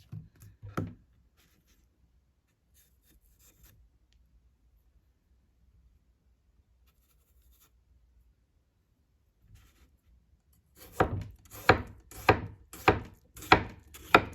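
A Tosaichi Shadow Gyuto knife slices through salsa vegetables, mostly quiet at first, then a run of six or seven crisp, evenly spaced chopping strokes on a board near the end.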